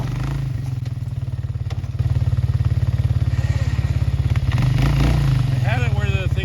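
ATV engine running steadily with its plow blade lowered, clearing snow on a gravel driveway; a close, continuous chugging drone that swells louder partway through, with some scraping clatter toward the end.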